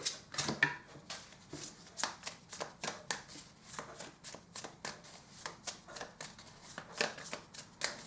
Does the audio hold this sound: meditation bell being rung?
no